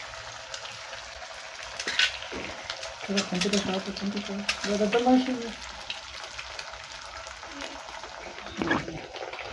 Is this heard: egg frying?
yes